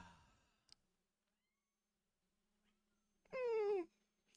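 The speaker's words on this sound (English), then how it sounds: "Kitten is meowing." Kitten meowing once, a single clear rising-then-falling cry after a near-silent stretch, close by and alone, following a brief faint breathy sound at the start.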